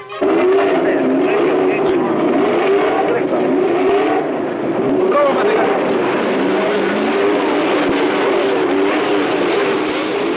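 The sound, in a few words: Formula One race car on Grand Prix track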